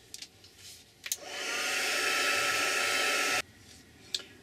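A hair dryer blows steadily for about two seconds to dry a paper craft card, a loud even whoosh that starts and stops abruptly, with small handling clicks before and after.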